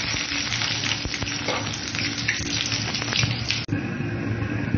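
Onions frying in hot oil with whole cumin, cinnamon sticks and cardamom for a chicken curry, a steady close crackling sizzle that runs unbroken, with a brief dip near the end.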